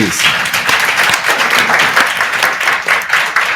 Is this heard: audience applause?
yes